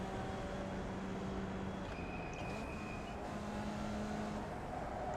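A Formula Vee race car engine in iRacing at Lime Rock drones steadily, its pitch rising and falling through shifts, loud and continuous throughout a lap.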